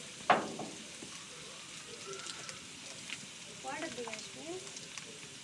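Coriander, cumin and ginger-garlic paste fry quietly in hot oil, a soft steady sizzle after a brief sharp clatter at the start, with light scraping and occasional faint bursts of speech over it.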